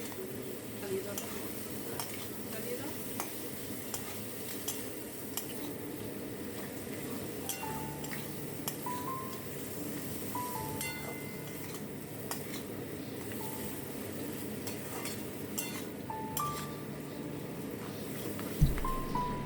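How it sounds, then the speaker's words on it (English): Fried crab pieces stirred in a pan for a Bengali-style crab curry over a medium flame, with a steady low sizzle and repeated light clinks and scrapes of a spoon against the pan. "Now add fried crab. Cook for 3 minutes on medium flame."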